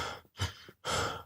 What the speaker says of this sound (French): Il s'essouffle très très vite le bonhomme quand même.